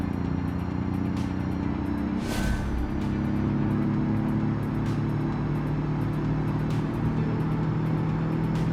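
A 1975 family wagon's engine drones steadily at full throttle in BeamNG, a sustained mid-loud hum with faint ticking repeats overhead.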